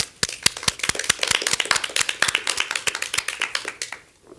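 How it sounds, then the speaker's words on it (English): A small audience claps in sharp, distinct beats that blend into brisk applause and then taper off quickly, close by with no talk. "Let's give him a round of applause."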